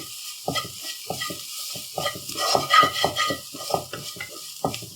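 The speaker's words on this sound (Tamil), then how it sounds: "இதை ஒரு 30 செகண்ட் வதக்கணும்." Spoon stirring and scraping potato masala sautéing in a pan, with soft sizzling under irregular scrapes, close up and no talking.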